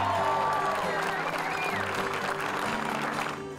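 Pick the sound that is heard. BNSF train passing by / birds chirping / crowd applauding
crowd applauding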